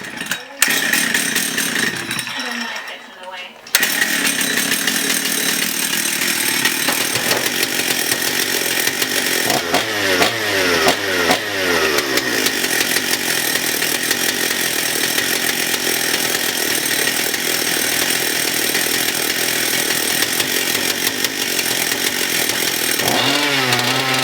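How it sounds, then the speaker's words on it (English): Husqvarna 268 chainsaw after a fuel line, coil and carburetor repair, cranking and catching, then running loud and steady near the microphone with revving swells, and a voice briefly audible over the engine. "let's see if she'll crank"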